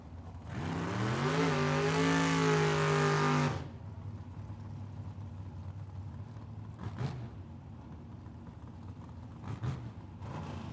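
A Camaro drag car at Tucson Dragway's Cactus Clash launches with a loud, rising engine roar that climbs for about three seconds, then cuts off abruptly, leaving distant track noise and faint thumps.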